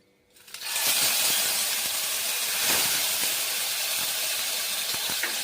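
Ginger paste hitting hot oil in a pan for a vegetarian okra curry, bursting into a loud, broad sizzle that holds steady and close, with faint clinks of a spoon beneath.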